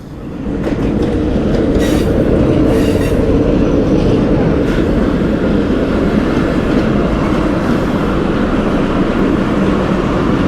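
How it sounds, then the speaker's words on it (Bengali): A shuttle train on the Poradah–Rajbari route near Kumarkhali rumbles past close by, a loud steady roar with rattling wheels and brief metallic squeals, continuous throughout with no voices. "ট্রেন আসছে সম্ভবত"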